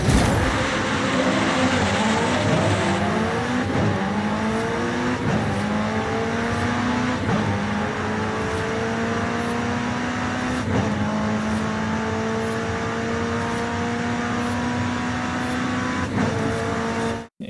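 Loud racing engine in the video game Forza Horizon 5 screams continuously, climbing in pitch through repeated gear changes, close and steady throughout with no voices.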